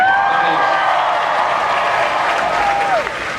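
Audience at a Star Wars panel at Disney's Hollywood Studios reacting with a sustained, close, dense wash of applause and crowd noise, fading slightly at the end.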